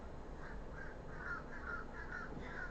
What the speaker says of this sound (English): the crows are going